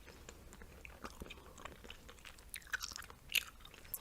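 Gum chewed close to the microphone in a quiet room, giving soft, irregular wet clicks and small smacks that come and go at a low level, with no talking.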